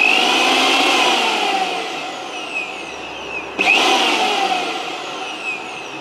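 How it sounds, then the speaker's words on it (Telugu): A Prestige MiXi 1000W mixer grinder running with its masala jar gives a steady high-pitched whirring motor drone, loud and close, with one brief sharp knock midway and small shifts in pitch as the load changes. "ఒకసారి మిక్సీ ఎలా వర్క్ అవుతుందో చూద్దాం రండి."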